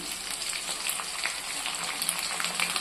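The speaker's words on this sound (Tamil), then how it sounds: "கருவேப்பிலை இலைகளையும் எண்ணெயில் நல்லா வதக்கிக்கிறோம்" Curry leaves sautéing in hot oil after shallots and garlic, for a fish curry: a steady, close crackling sizzle with light bubbling throughout, no talking.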